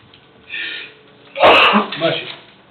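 A single close, loud sneeze, a short intake of breath followed by a sharp burst, with a softer trailing sound after it.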